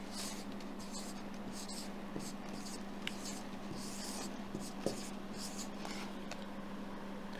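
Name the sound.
writing by hand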